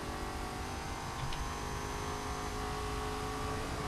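Cars in the video game Saints Row IV drive in a steady, loud engine drone and whir that continues without a break, with only a faint brief knock partway through and no clear crash.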